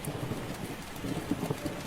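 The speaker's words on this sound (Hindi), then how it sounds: "अभी वो थोड़ा ही दूर गया था कि बारिश तेजी से शुरू हो चुकी थी।" Heavy rain begins to fall in a Hindi cartoon story about a farmer, a steady, dense patter of drops with a low rumble underneath, moderately loud and continuous.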